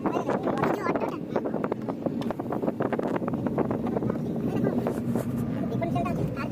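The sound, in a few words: cold wind blowing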